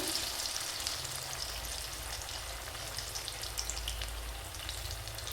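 Potato bondas bubble in hot oil, a dense, even crackling sizzle like light rain that holds steady throughout, close by and fairly quiet, with no voices.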